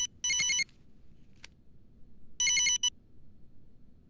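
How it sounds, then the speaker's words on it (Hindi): An electronic telephone ring sounds in two bursts, a short chirp between them, then fades to quiet room tone. "सर फोन आया।"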